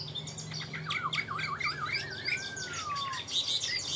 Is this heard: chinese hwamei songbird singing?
yes